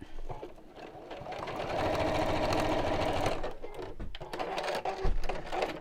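Sewing machine stitching fabric close to the edge, running steadily for several seconds with a fast continuous mechanical whir, briefly pausing before starting up again, loud and near.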